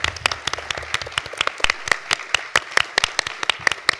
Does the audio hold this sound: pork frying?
no